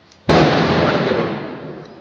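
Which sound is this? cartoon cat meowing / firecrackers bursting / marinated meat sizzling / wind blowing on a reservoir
firecrackers bursting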